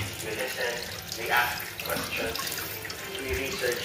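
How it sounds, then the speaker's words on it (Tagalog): Water running weakly from the fill valve into a repaired toilet tank, a steady close trickling and splashing with a voice talking over it. "Ayan, mahina ang tubig."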